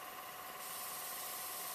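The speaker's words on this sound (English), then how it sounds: "And then I'm going to spray onto this." An airbrush sprays foundation in a steady, continuous airy hiss that grows slightly brighter partway through, close and alone with no talking.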